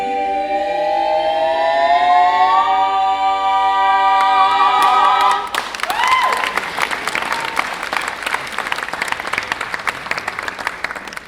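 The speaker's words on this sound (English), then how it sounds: "Give her a round of applause" Applause from a studio audience for a departing guest named Caroline on a TV show, a dense burst of clapping that swells in after about five seconds over fading tonal music and carries on loudly to the end.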